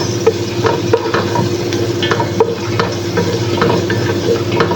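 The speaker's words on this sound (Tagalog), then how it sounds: "magigisa na naman dito tayo ng sibuyas" Onion sautés in a pan for a home lunch, giving a loud, steady close sizzle with frequent scraping stir strokes of a utensil against the pan and no talking.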